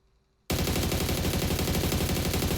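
Rapid automatic gunfire in the video game PUBG on console, with a sustained loud burst starting abruptly after a brief quiet moment and continuing steadily to the end.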